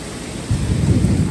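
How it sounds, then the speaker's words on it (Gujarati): Heavy monsoon rain pours down over the city of Surat in a dense, steady roar, with a deep rumble of thunder building partway through. "કડાકા ને ભડાકા સાથે વરસાદ પડી રહ્યો છે બોસ"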